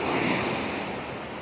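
Sea waves surge and break white against the rocky shore at Vernazza in Cinque Terre, Italy, as a steady, loud rushing wash with some wind buffeting on the microphone.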